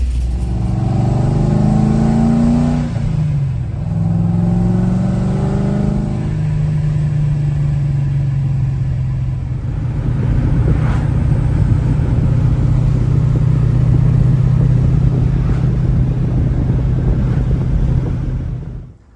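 A 2006 Chevrolet Corvette engine rumbles deep and low with the exhaust closed, briefly revving up and settling back into a steady throaty drone, with wind buffeting the microphone.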